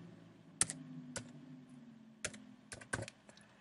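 Fingers typing a postal code on a computer keyboard, a handful of sharp, close key clicks spaced irregularly over a quiet room hum, with no talk.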